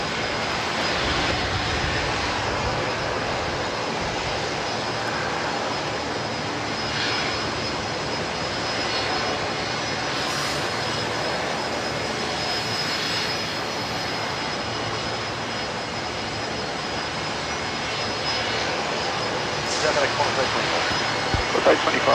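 A passenger jet lands at Brisbane Airport, its steady engine roar holding loud and continuous throughout, with radio-style voices talking over it.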